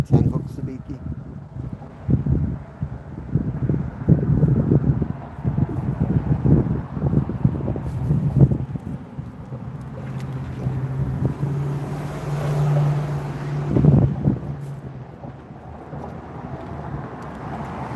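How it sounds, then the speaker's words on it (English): Strong wind buffeting a fishing boat offshore, gusty roaring rumble with engine-like drone and water noise throughout, loud near the microphone, with someone talking intermittently over it. "It's windy and noisy out here."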